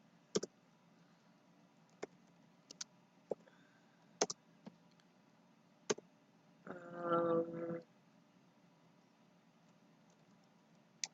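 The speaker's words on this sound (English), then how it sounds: "I'm just typing in random stuff." Sparse keys tapped on a computer keyboard while a name and number are entered, sounding as about ten separate clicks spaced irregularly, close and quiet, with a brief rustling burst partway through and no talking.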